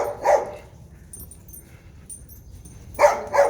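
A shelter dog gives short high squeaky yips and whimpers, one at the start and a pair near the end, separated by quiet, close and clear with no talking.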